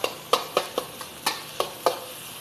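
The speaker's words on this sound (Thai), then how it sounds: "แล้วก็ผัดให้เข้ากันนะครับ" Rhythmic scraping strokes of a spatula tossing tom yum fried rice with chili paste and shredded mushrooms in a hot pan, about eight sharp stirs over a soft sizzle, close up and without voices.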